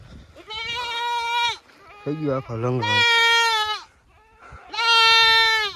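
A goat with a broken leg bleats loudly and close by in three long, wavering cries, with a voice talking in the gaps between them.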